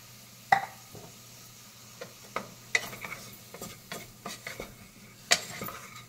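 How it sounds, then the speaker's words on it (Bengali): Khichdi with ginger garlic paste stirred in a pan, giving soft scattered scrapes and knocks of a spoon against the pan over a faint sizzle, close and fairly quiet. "এবার ভালো করে এটা নেড়ে"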